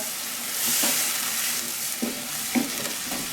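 Vegetables stir-fry in a pan for spicy mapo tofu rice, a steady hissing sizzle with a few soft stirring knocks and scrapes, close by and without talk.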